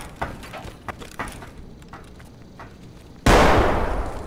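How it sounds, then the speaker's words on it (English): A sudden loud grenade blast in the Escape from Tarkov shooter game cuts in near the end after a stretch of quieter footsteps and clicks, then rumbles with a long, decaying roar. "somebody brought grenades to the party"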